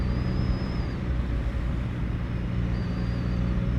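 BMW R NineT Urban G/S motorcycle riding along, a steady low engine rumble with constant road and wind noise and no break in the drone.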